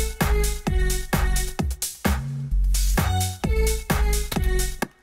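A Serum synth patch detuned into a thick polyphonic stack with wide stereo spread, playing punchy rhythmic chord stabs with deep low end and a sustained held section midway, loud and prominent with no voices.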